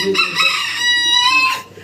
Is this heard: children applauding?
no